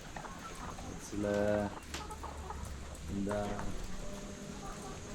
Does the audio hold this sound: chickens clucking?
yes